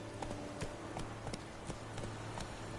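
Hooves of Roach, the horse in The Witcher video game, pound in a steady galloping clip-clop rhythm, each footfall clear and mid-distance over a faint low game hum, with no talk.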